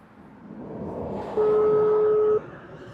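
A phone tone from a call being placed to a repair shop about an oven sounds as one steady beep lasting about a second, heard over a constant background rumble.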